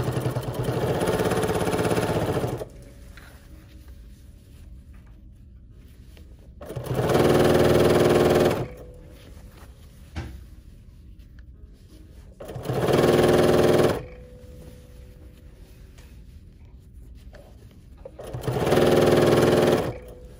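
A Bernina sewing machine fitted with binding foot #71 stitches in three separate bursts of steady, rapid whirring, close and clear, with quiet pauses between runs.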